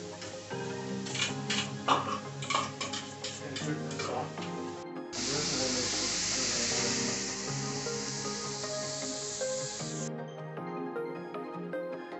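Ground mushroom mixed with shallot and garlic is added to a pan, where a soft, steady hiss of cooking rises for several seconds amid background music.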